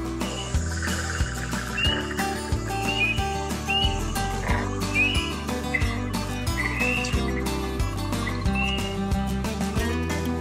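Frog calls with spring peepers chorusing behind them in a wet, grassy area: rhythmic, low repeated croaks in the foreground and high, short peeping whistles scattered throughout, loud and continuous with no voices.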